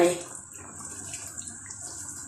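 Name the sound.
pouring hot water over spinach leaves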